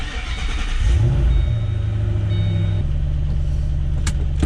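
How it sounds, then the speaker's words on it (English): A 2008 Mustang GT500 pulls away and drives around a parking lot, its engine rising in a short rev before settling into a steady, loud, close-up low drone with no talking. "I'm just gonna take it around the parking lot"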